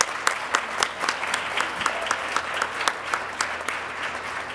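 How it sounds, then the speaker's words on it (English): Conference audience applauding panelists at the end of a session, moderate clapping with distinct sharp claps standing out in a steady, slightly uneven rhythm, heard alone without speech. "Let's give a round of applause to our panelists."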